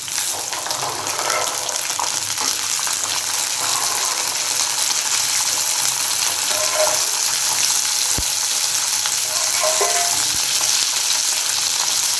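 Turkey berries and broad beans sizzle and fry steadily in a pan while being stirred, with a continuous loud crackling hiss and occasional scraping of the spoon, no talk.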